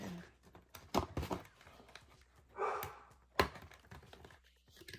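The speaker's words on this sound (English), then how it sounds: "That's our dog in the background." A dog barks a few times in the background, with soft rustling and handling noises nearby, no talking.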